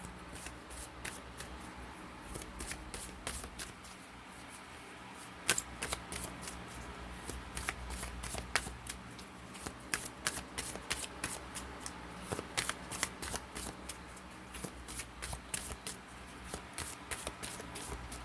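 Tarot cards are shuffled by hand in a steady run of crisp riffling flicks and soft slaps, close and continuous throughout, with no talking.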